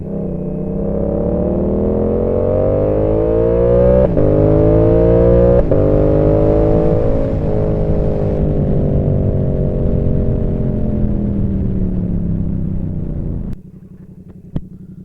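Yamaha R7 motorcycle engine fitted with a Dano quickshifter, revving loudly and climbing through several quick upshifts with brief rhythmic dips in pitch, the rough, steady engine drone running close until it cuts out near the end.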